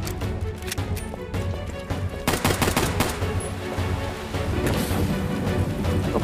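Handgun shots ring out in a PC video game as bursts of sharp, loud cracks, followed by denser rapid fire over the game's constant background noise.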